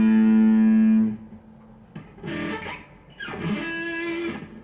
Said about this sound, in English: I have my distortion amp on here